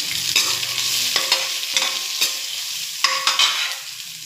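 Small onions (shallots) sizzle in hot oil with fenugreek, fennel seeds, mustard seeds and curry leaves for a fish curry. A spoon stirs and scrapes the pan in several sharp clinks over the steady frying.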